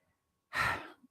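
One loud breath pushed straight into a close microphone, a brief breathy gust after silence, sounding like a heavy sigh.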